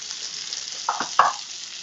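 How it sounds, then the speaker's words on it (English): Onions frying in olive oil in a pan, a soft steady sizzle with a couple of brief louder bursts of crackle partway through, close and fairly quiet. "We're going to get our onions in this same pan with oil."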